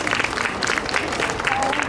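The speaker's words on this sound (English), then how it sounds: "If you could give them all a round of applause." Audience applause at an Indiana Jones exhibit grand opening red carpet event, a crowd clapping steadily and fairly close for a couple of seconds, with a few voices mixed in.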